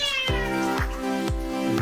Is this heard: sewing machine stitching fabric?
no